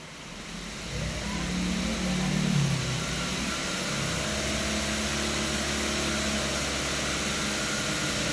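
A vehicle engine under an ECM load test is revved up to about 2000 rpm, climbing over two seconds and then holding a steady, droning hum at the raised speed, heard alone without talk.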